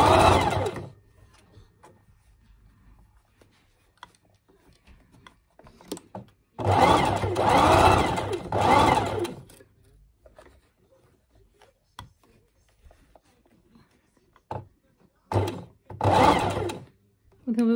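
A sewing machine stitching short seams through felt for a toy donkey, running in short separate bursts of fast mechanical whirring, with quiet pauses and soft handling noises between them.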